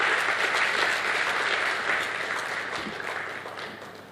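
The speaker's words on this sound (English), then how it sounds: "Another warm applause for him," Steady applause from the audience at a mentoring conference, a dense wash of clapping that fades slowly toward the end.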